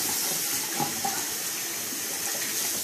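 A tap runs cold water for a rinse while hair is washed in a barbershop, a steady close splashing rush of water into the basin that holds even from start to finish.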